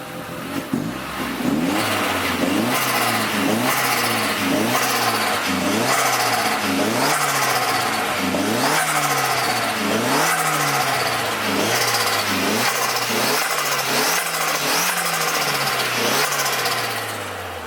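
A turbocharged 1.8-litre Golf II 4x4 engine runs steadily close by on a small battery, its revs rising and falling in repeated surges, loud and continuous with no talking.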